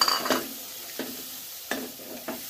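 Boiled water poured into a pan of sautéed potatoes for a fish curry, giving a soft sizzle with a few light stirring scrapes and taps at about even intervals, nearby and unvoiced.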